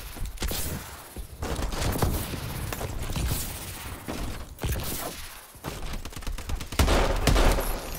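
Gunfire in the video game Call of Duty: Advanced Warfare during a gun game match. Loud bursts of shots come in clusters with brief gaps and some heavy thuds, all close and without talk.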